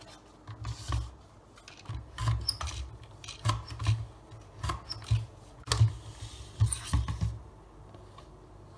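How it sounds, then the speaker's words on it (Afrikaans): A hole punch bites through paper along the edges again and again, a roughly regular series of crunchy, close clacks and rustles with no talk. "gaan jy jou gaatjiepons vat of enigiets wat vir jou kan gaatjies trek in jou papier en jy gaan al op die kante vir jou gaatjies trek"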